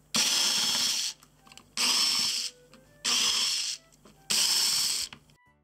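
A power screwdriver backs screws out of an ASUS TUF Gaming CU4K30 capture box casing: four separate whirring bursts of about a second each with short pauses between, close and clear, no voices.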